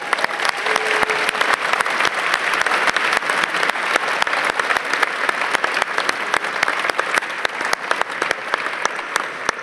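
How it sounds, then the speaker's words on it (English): Loud, sustained audience applause at a business event in the Netherlands, many hands clapping in a dense stream with sharp individual claps standing out close by, continuing for nearly ten seconds without speech. "Please give them a big round of applause for their support."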